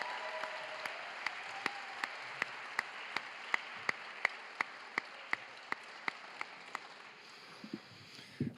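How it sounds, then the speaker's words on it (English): Audience applause at the Worlds Grand Finals in Hart House, University of Toronto, honoring the grand finalists: a faint, distant, steady wash of clapping with evenly spaced sharper claps, running for several seconds before tailing off. "Can we have one more huge round of applause for all the grand finalists?"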